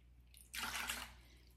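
A brief splash of water pours into a mixing bowl for about half a second, close and clear, then stops over a low steady hum.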